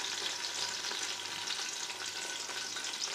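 Onions fry in hot ghee for a turnip and spinach bhujiya, giving a steady, close, loud sizzle and crackle with light stirring throughout and no talking.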